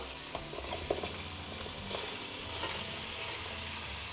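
Carrots, onions, garlic and green onion sizzle steadily in a pot, a dense continuous frying hiss with occasional stirring clinks, close and alone without talk.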